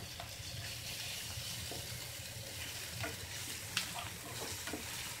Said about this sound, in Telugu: ఇది కొంచెం మంచిగా వేగాలి వేగింది